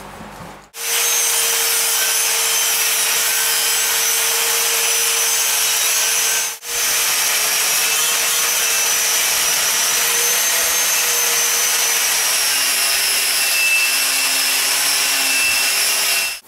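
A power tool, likely a wire wheel, grinds loudly and steadily against the rusty, crusty surface of a VW Beetle front brake part, with one brief break midway and a whining pitch that shifts under load.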